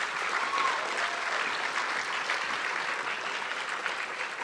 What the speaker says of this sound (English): So how about a round of applause for Mrs. Melhorn?